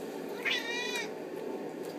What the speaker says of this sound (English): He's a great cat.